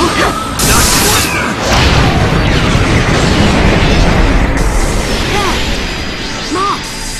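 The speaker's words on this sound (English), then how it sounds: "Super mini tail beast bomb!" Naruto's super mini tailed beast bomb in a fighting video game detonates as a loud, sustained crashing blast with rumbling debris, overlaid by energetic battle sounds and shouted voices.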